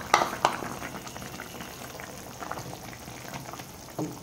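Snakehead fish and radish simmer in a cooking pot, bubbling steadily with a soft, continuous liquid churn. A few louder pops break through near the start and again near the end.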